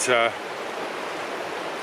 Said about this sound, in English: I hope you can hear me over the sound of the river.